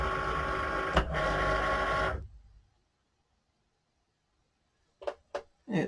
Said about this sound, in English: I'm waiting for the Cricut machine. Okay, I'll load up the mat.